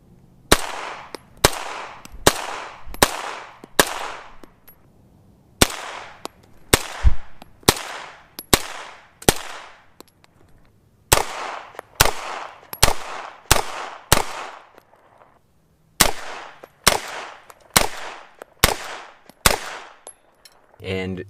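Rifle shots fired through a Kaw Valley Precision Mach 3 muzzle compensator, loud sharp reports in quick strings with short pauses between groups, close to the shooter and without talk.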